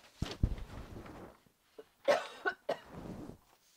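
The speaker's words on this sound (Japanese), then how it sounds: "なんか咳出るわ" Several dry coughs in short bursts, close and fairly loud, with brief pauses of quiet between them.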